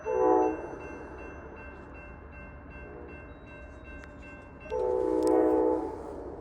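Amtrak and other trains on three tracks pass near a motel at night in 12-degree cold, their horns sounding loud in two long blasts at the start and near the end over a steady rumble of rail noise.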